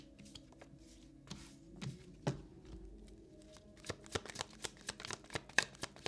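Someone shuffles an Intuit Tarot deck, a soft, close riffle and slide, starting with sparse flicks and building into quick rhythmic bursts of card snaps in the last couple of seconds. The room is otherwise quiet.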